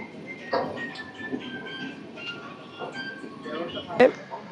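The 12862 Superfast Express pulls out of Malkajgiri station, with faint rolling train noise, a few soft clanks, and one sharp metallic knock near the end, all under someone talking.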